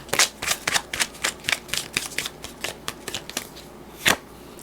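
Tarot cards being shuffled during a Cancer zodiac love reading, a run of quick crisp riffling bursts with one louder snap near the end, close and alone.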